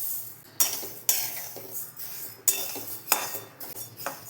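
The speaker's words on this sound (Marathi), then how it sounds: "धण्याची पावडर करण्यापूर्वी आपल्याला धणे कढईमधून थोडे 3 ते 4 मिनिटं भाजून घ्यायचे आहेत" Coriander seeds being dry-roasted in a kadai are stirred with a metal spoon, making sharp scraping clinks at an irregular rhythm over a soft rustle of rolling seeds, close and fairly clear.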